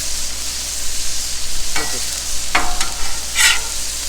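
Burgers and mushrooms sizzle loudly on a Blackstone griddle with a steady, close frying hiss, broken by a few sharp scraping spatula strokes.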